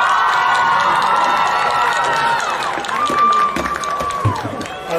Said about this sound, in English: Ladies and gentlemen, put your hands together for Alisa Mora.